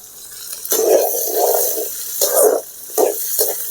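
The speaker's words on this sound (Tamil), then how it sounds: "வெங்காயம் பூண்டு நல்லா வதங்கிட்டு" Onion and garlic sautéing in oil in a pan for a Tamil ginger curry, heard as close, intermittent bursts of stirring and soft sizzle separated by quieter pauses.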